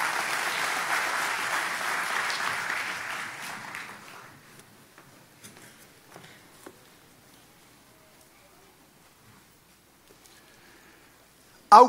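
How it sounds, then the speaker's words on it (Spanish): A church congregation applauds together, the clapping loud and dense for about four seconds before thinning out into scattered claps and quiet room sound, with a sharp burst at the very end. "Denle un aplauso a Cristo"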